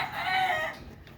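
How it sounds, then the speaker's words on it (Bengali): A rooster crows once on a Bangladeshi poultry farm, loud and close, with a short bright call that fades out after about a second. "তোমরা বলবা এই মুরগির আওয়াজ মনে হয় এই মুরগি বলছে"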